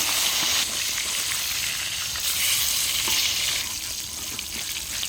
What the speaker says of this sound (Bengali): মাছগুলো একটু বেশি করেই ভেজে দিই